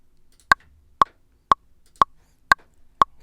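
A metronome set to 120 BPM ticks six times at an even half-second pace, each sharp click isolated against near silence.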